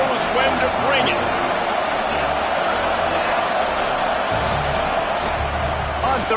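College football stadium crowd roaring at a game, a loud, dense wall of cheering and whoops that stays thick and continuous from start to finish.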